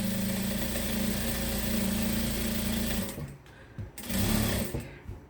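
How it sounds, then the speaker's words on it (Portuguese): A sewing machine runs steadily as it stitches along the marked line of a small fabric capybara head, then stops briefly and starts again in short bursts, loud and close with no talk. "Vamos costurar essa cabecinha no risco"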